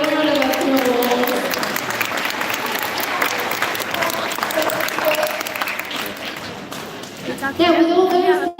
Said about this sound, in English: Give Louis a round of applause.